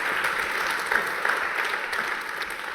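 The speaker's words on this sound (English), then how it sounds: "Ladies and gentlemen, one more big round of applause for Professor Lampros Stergioulas." A conference audience applauds Professor Lampros Stergioulas at a UNESCO inaugural event: dense, even clapping from a full room, sustained and fairly loud throughout without any voices over it.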